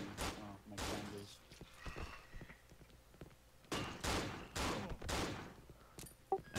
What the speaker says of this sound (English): A lot of gunshots.